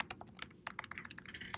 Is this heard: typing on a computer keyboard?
yes